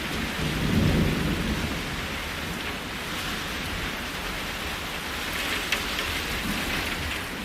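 Heavy rain pours down steadily during flooding in the Dominican Republic, with a low rumble of thunder near the start. The broad roar of the downpour holds constant throughout and no one speaks.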